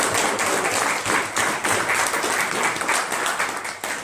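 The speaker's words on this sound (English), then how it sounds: "Can y'all give this young lady a round of applause?" Applause at an annual closing ceremony, a loud, sustained crowd of hands clapping close by, even and unbroken throughout.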